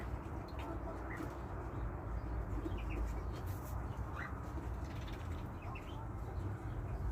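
Domestic geese and muscovy ducks kept with growing chicks in a farmyard give soft, scattered calls over a constant low background hum, faint and fairly distant.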